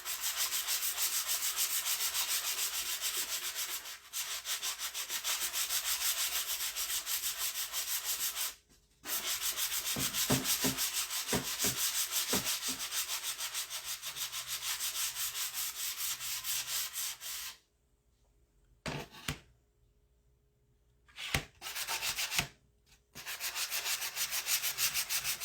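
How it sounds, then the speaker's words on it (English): Sanding block rubbed by hand across a wood plank in a craft setting, a steady close scratchy rasp running almost continuously, broken by a few short pauses and some brief light taps near the end. "So I'm just going to use my sanding block. And right now I'm going to sand it into the trash can as much as possible."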